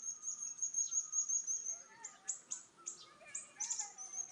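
A parrot eating kafal berries in a village forest, giving repeated high chirps and short calls against faint insect and outdoor ambience, moderately near.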